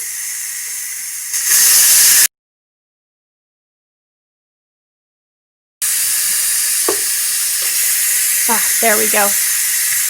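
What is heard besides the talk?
steam venting from pressure cooker valve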